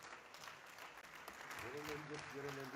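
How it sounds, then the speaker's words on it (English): Ceremony crowd at a manifesto rollout gives a standing ovation for their president, heard as sustained dense clapping at moderate distance that builds slightly, with a voice speaking over it near the end. "I think we should have a standing applause for our president in closing the ceremony."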